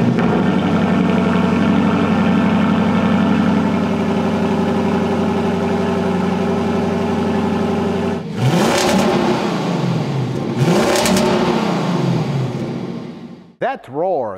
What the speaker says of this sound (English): That roar that you heard is a proper raw V8.